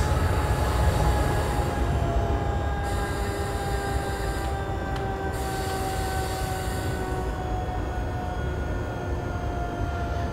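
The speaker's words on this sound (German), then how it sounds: "Ja, deshalb bremse ich den Zug jetzt einmal schon hier runter." S-Bahn train from Leipzig to Bitterfeld braking in Train Simulator 2020, a loud steady rumble of rolling wheels with faint rising whine tones fading as it slows, no talking.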